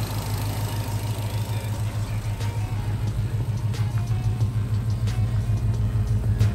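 A 1966 Ford Mustang with a 302 V8 idles steadily up close, a deep, even rumble with a regular low pulse that runs throughout, no voices.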